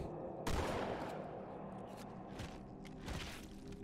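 Shotgun blasts from the video game Halo 2, a few sharp reports spaced apart, with one strong shot early and another near the end, among quieter game noise and no talk.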